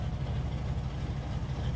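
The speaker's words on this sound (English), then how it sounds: "Car's running, so it's a little loud." A car engine idles nearby with a continuous low, rumbling hum, steady and moderately loud with no talk over it.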